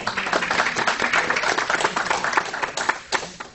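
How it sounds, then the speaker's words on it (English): Engineering workshop audience gives a round of applause, dense steady clapping from a room of people, moderately loud and continuous throughout. "Give yourself a round of applause."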